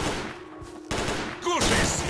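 Video-game gunfire in STALKER: Call of Pripyat, a short, quieter stretch giving way to loud, sharp bursts of shots, with a brief voice cutting in among them.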